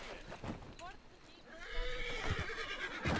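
A horse in the Red Dead Redemption video game whinnies with short rising calls, followed by hoofbeats and game ambience, while people talk over it in the background.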